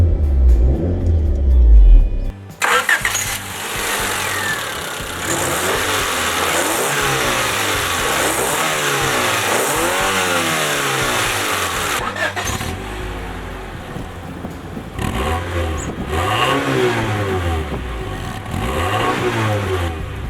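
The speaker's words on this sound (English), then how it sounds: "Let me start the car and quickly show you the engine bay followed by some exhaust sound." A 1993 Honda Prelude S engine starts, then idles and revs repeatedly with a steady exhaust note, loud and close, rising and falling in several pulls with no talking.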